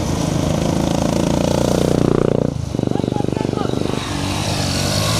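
Motorcycles in a rural race thunder close by with loud, buzzing engines that rev and rise, then briefly dip before another rider roars through, while a commentator announces over the noise.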